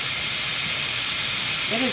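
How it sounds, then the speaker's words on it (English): A pressure canner processing chicken stock vents a steady, powerful jet of steam, giving a loud, unbroken hiss throughout. "there is a very clear, powerful, steady steam"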